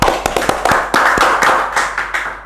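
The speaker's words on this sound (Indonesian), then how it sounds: "Tepuk tangan dong untuk Mr. Puisi, teman-teman." A small audience claps, with distinct sharp hand claps standing out over a bed of scattered applause in a short burst.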